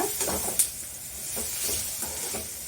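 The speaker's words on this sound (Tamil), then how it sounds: "அதுக்கு நான் எண்ணெய் சூடு பண்ணிட்டேங்க. அதில் நம்ம இந்த காஞ்ச மிளகாவை போட்டுக்கலாங்க." Dried red chillies fry in hot oil with a steady, moderate sizzle and hiss that holds for the whole stretch. Brief stirring accents rise above the frying now and then.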